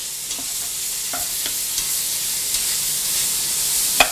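Onions and lardons frying in a pan, a steady close sizzle with a few soft clicks of stirring.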